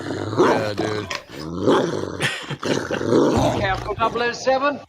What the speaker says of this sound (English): man, that's my dog right there